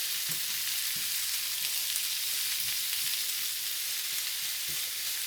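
Potatoes and onions fry in a skillet with a steady, even sizzle throughout, joined now and then by soft thumps and low knocks from the pan, with no talking.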